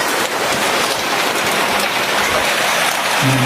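Steady rain hisses and patters continuously on a surface, with no voices.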